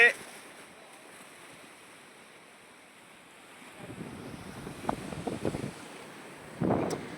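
Wind and ocean surf at Akkupalli Beach make a steady, low wash, with rougher gusts and louder bursts of rushing noise toward the end.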